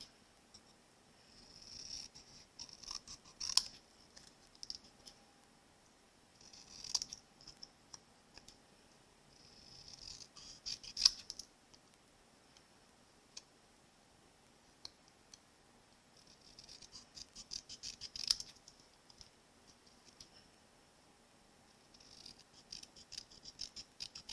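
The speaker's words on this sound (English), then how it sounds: "So I'm going to go ahead and use my paper snips to cut that down a little bit." Paper snips trim paper in a quiet room, faint crisp snipping clusters coming every few seconds with near silence between them.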